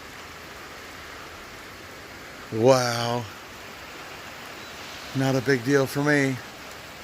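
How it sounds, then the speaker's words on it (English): Rain falls steadily outside a new workshop in December, a soft, even hiss throughout while someone speaks briefly in the foreground. "It's fucking raining."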